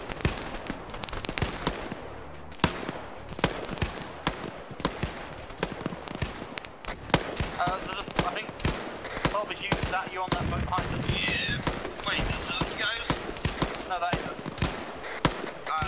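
Video game gunfire: rapid bursts of shots and machine-gun fire crackling almost continuously, loud and dense, with voices talking over the shooting.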